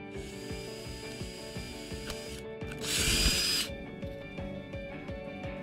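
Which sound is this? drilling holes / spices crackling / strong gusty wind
drilling holes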